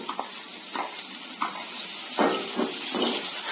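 Bitter gourd pieces, boiled in salted water, tipped into a pan of fried onions and curry leaves for a bitter gourd tamarind curry, sizzling steadily with several bursts of frying and stirring close up, no talk.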